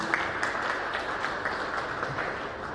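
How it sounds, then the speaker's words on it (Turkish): Audience applause at a photo marathon award ceremony in Manisa, a steady dense wash of clapping from a crowd that holds evenly from start to finish with no voices. "Kendilerini alkışlarla uğurluyoruz efendim."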